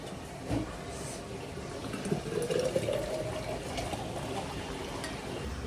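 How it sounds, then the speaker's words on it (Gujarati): Quiet stream of hot water, strained of fenugreek seeds and fennel, pouring into a bottle, its pitch rising as it fills, over a low background rumble. "હવે ગરમ પાણીના બોટલમાં કાઢી લઈએ અને ગાળી લઈએ"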